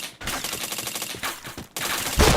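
Rapid automatic gunfire in a shooter game, loud close bursts of shots that pause briefly and then resume, heard alone without talking.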